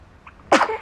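A single sharp sneeze from a newborn baby bursts out after a brief quiet pause, loud and close, with a faint breathy intake just before it.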